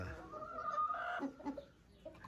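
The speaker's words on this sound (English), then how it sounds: "All these chickens." Chickens cluck and murmur close by on a farm in short, uneven bursts, fairly quiet, with no talking.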